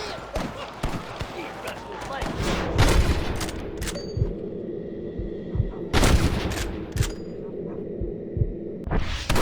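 Gunfire during a shootout in Red Dead Redemption, with loud, irregular volleys of gunshots, sharp cracks and clangs, and denser bursts around the middle of the scene, while voices shout in between.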